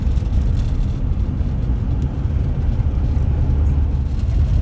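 A car drives along a road crossing New Zealand's Southern Alps, with a steady, loud rumble of engine and tyre noise that holds constant throughout.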